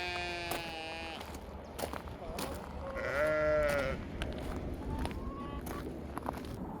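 Sheep on a small farm bleat while waiting for breakfast, several overlapping calls, some drawn out and wavering, close by over a steady low background hum, with no talking.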